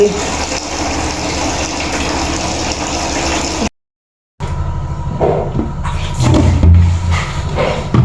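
Steady rushing water fills the clip, broken by a short silent gap, then continues with splashing and a low engine-like hum underneath.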